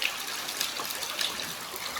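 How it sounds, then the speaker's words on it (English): Water from a small stream spills over the edge of a canyon, giving a steady, broad rushing and splashing hiss at moderate distance with no talk over it. "this falling water is the water in our little stream up above"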